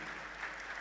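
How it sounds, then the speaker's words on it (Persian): Audience applause at a music school concert at the Azadi Tower, a brief, dense and even patter of clapping from the seated crowd, fairly soft and steady. "ایشون هم یه تشویق قشنگ بکنیم"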